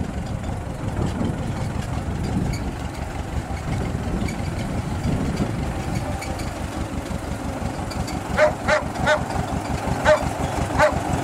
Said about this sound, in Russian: И сразу трактор отвезите, сразу же.